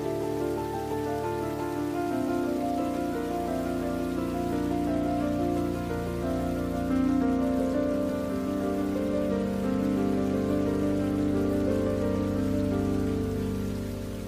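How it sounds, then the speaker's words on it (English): Torrential monsoon rain pours steadily onto surfaces, a dense, loud, continuous wash of drops with no pauses, heard alone without voices. "the monsoon arrives, bringing torrential rainfall that is critical for the lush tropical vegetation"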